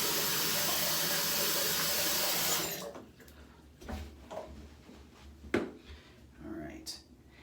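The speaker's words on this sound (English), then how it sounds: "Rinse my face off and go in for pass 3." Water splashing at a bathroom sink as a face is rinsed during a shave with a Viking Blade razor: a steady running-tap hiss that stops abruptly, followed by scattered splashes and drips.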